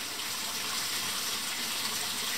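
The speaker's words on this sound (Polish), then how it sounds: "Zlania tego słoja w tradycyjny sposób." Water poured steadily from a jar holding pike fry into a hatchery trough, a continuous close gush and trickle lasting throughout with no other sounds.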